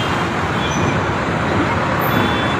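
Steady, loud road traffic noise from a long traffic jam at a busy junction where a victory procession has halted vehicles for an hour, a continuous broadband rumble of cars, trucks and buses with no clear pauses.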